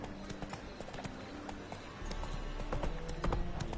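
Horse hooves clip-clop steadily in The Witcher 3, a close, regular trotting rhythm that grows louder partway through, with faint game ambience and a brief snort-like accent near the end.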